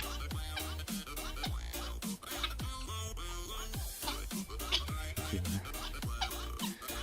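Guinea fowl, both males and females, cluck loudly and repeatedly at close range in harsh, rhythmic calls that overlap throughout, with a few faint voices in the background.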